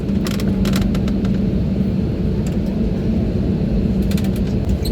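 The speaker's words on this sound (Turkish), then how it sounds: "Şimdi piste girdik birazdan hareket edeceğiz." A steady, loud engine rumble and low drone fills the cabin of a passenger airplane taxiing onto the runway, with intermittent clicks and rattles.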